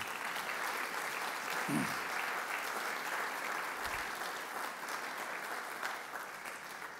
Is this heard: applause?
yes